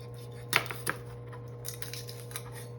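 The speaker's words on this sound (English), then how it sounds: "what we're going to do is just cut off the root end" A knife cuts the root end off a garlic clove on a board, two sharp close taps in quick succession and then a few fainter light knocks, with a steady hum in the background.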